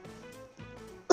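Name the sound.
cough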